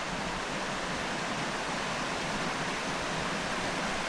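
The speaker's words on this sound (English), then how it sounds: "there we go again, a lovely little waterfall." A small waterfall on the Isle of Skye pours into a pool, producing a constant, loud, broadband rush of falling water close by with no pauses.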